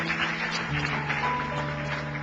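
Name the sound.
church congregation applauding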